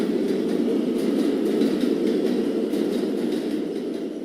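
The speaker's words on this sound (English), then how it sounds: "The noise sounded like a train." A subway train gives a steady, muffled rumble from behind a wall, with a faint rhythmic clatter of wheels riding over a constant low roar.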